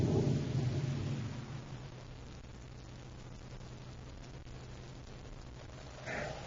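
Rumbling thunder of an approaching storm, a radio drama sound effect, swells loudly at the start, then settles into a steady low roar and ends with a brief brighter crack.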